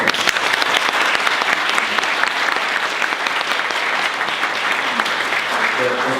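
Sustained audience applause welcoming a speaker at an event, a dense, steady wash of clapping that holds at an even level for the full length, alone with no talk over it.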